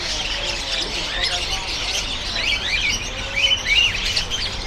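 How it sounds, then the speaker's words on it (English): Many caged birds at a Hong Kong bird market chirp and tweet continuously, with bright overlapping calls and occasional squawks over steady market bustle, fairly loud and close throughout. "They're pretty used to tourists coming up here and filming the birds."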